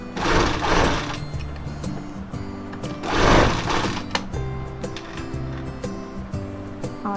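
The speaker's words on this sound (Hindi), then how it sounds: "मैं सिलाई स्टार्ट करूँगी" Sewing machine stitching elastic into a salwar, running in bursts of fast whirring stitches with short pauses between, close and clear with no voices.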